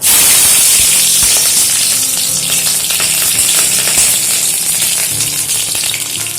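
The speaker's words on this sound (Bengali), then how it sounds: "কড়াইতে সর্ষের তেল দিয়ে দিচ্ছি ফোড়ন হিসাবে দিয়ে দিচ্ছি কালো জিরে আর দিয়ে দেবো চেরা কাঁচা লঙ্কা" Black cumin seeds and slit green chilies fry in hot mustard oil in a wok, giving a loud, steady sizzle with crackling pops that runs unbroken from start to finish, with no talk.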